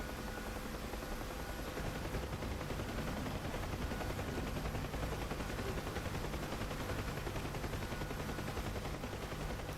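Dense, continuous rattle of small-caliber 7.62 machine gun fire heard from a low-flying Huey helicopter in the DCS flight simulator, mixed with steady rotor and engine drone for the whole stretch, with no voices.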